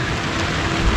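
Rain pours steadily on a mountain road trip, a dense, even hiss of falling water with no breaks or voices over its brief span.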